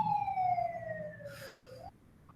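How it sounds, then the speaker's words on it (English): Fire engine siren from a fire station next door, a long falling wail that sweeps down steadily and then rises again, loud and close, with no voices. "We have a siren."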